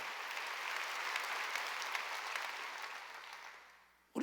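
A church congregation at a Wednesday service claps steadily in a dense wash of applause that gradually fades out, ending with a short sharp burst.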